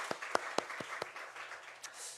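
A congregation clapping during a Sunday worship service in a church, a few sharp, scattered claps that fade into thin, quiet clapping, fairly distant and soft.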